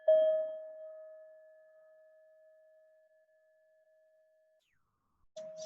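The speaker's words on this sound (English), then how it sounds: "Just ring the bell to start the practice." A single meditation bell is struck to open a breathing practice, ringing out clearly with a long pure tone that slowly fades to silence before a second strike begins at the very end.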